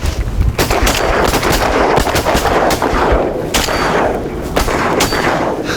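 Repeated shotgun blasts from a duck hunting party on the bayou, loud close booms coming in quick irregular succession, several overlapping shots with little talk.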